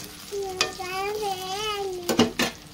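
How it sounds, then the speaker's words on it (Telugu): Moringa drumstick pods frying in a pan, a steady sizzle with sharp scraping stirs near the end, while a thin whistling, wavering tone rises and falls over the middle. "మునక్కాయలు ఫ్రై అయినాయి ఫ్రెండ్స్."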